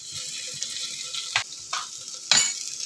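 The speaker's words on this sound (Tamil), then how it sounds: "பாருங்கள், வெங்காயம், சின்ன வெங்காயம் நல்லா வதங்கிடுச்சு." Small onions sizzle steadily in a hot pan, with a few sharp scraping stirs of a spoon cutting through the frying hiss.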